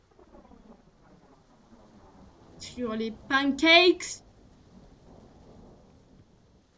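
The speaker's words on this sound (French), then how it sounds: "le bruit de cet orage, il était hyper chelou" A thunderstorm in the Roblox horror game DOORS, with a rumbling thunder burst swelling for about a second over low background ambience, while a voice talks briefly over it.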